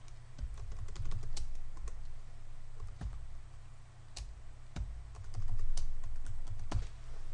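A password typed on a computer keyboard, steady close key clicks in irregular runs with a few louder strokes, alone over a low background hum.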